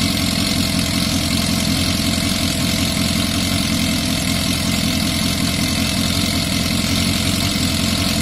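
A Yamaha Fazer FZS 600cc motorcycle idles just after its first start-up in a project rebuild, a loud, close, steady engine rumble that holds an even pace throughout with no voices.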